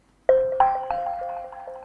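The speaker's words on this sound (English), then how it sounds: "I've chosen the ethnic pluck from a few tutorials ago." Three bright plucked synth notes strike in quick succession, each ringing out with a twangy, exotic tone that sustains and slowly fades.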